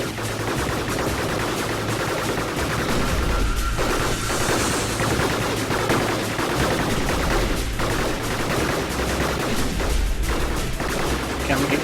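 Robots trade continuous rapid gunfire in the video game Gladiabots, a dense barrage of shots and crashes that runs the whole time while someone talks over it.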